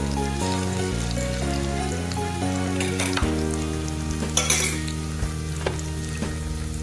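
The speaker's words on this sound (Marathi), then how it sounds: "थोडीशी परतून घेऊया." Ginger, garlic, green chili and coriander paste frying in cooked onion-tomato purée for a chickpea curry, a continuous hissing sizzle with occasional clicks and scrapes from stirring, no talking.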